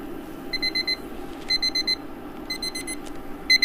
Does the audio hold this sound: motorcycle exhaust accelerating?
no